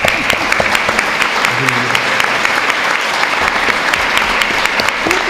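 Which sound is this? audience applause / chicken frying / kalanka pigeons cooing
audience applause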